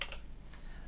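Computer keyboard clicking as a build command is typed on an Arch Linux system, a few faint, quick key taps close by.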